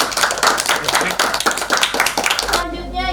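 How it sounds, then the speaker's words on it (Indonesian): A classroom group claps for a student, a dense run of overlapping handclaps that fills most of the moment and then stops abruptly, leaving a voice speaking briefly at the end. "Oke, tepuk tangan buat Lulu Atul."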